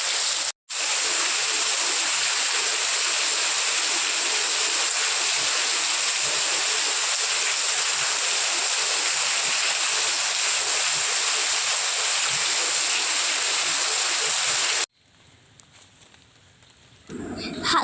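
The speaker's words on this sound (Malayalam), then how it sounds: "ഇത് ഞങ്ങളുടെ തോടാണ്. തോട് കവിഞ്ഞ് പറമ്പിലേക്കെല്ലാം വെള്ളം കയറി തുടങ്ങി." An overflowing stream after heavy rain roars in a loud, continuous rush of water close by for about fourteen seconds, then cuts to a much quieter scene.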